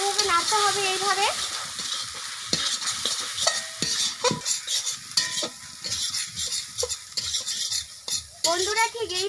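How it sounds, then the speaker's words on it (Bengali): A spoon stirs egg and potato fry in a pan, made with farm-raised country hen eggs. Repeated scraping and clattering strokes come close and loud over a soft sizzle, with a short voiced sound at the start and end. "এবার বন্ধুরা খুব ভালোভাবে নাড়তে হবে এইভাবে"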